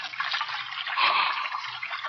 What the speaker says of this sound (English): Sound of water so loud.